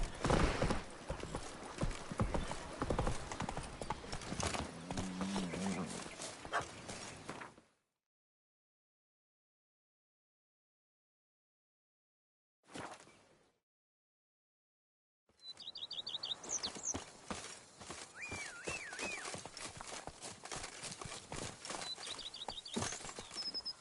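Horse hooves clip-clop in steady rhythm during riding in the video game The Witcher 3: Wild Hunt, Blood and Wine expansion, with birdsong chirping over them; the sound cuts to silence midway, then resumes.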